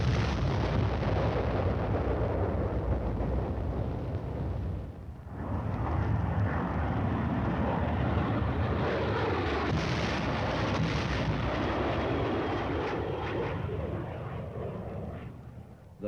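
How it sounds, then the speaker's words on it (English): Napalm dropped from aircraft over dug-in enemy positions in a 1950s armored combat setting makes a continuous, dense roar of fire and blasts. It dips briefly once, then rumbles on loud and steady before easing off near the end. "The deadly napalm is dropped in a veritable blanket of destruction over the enemy's position."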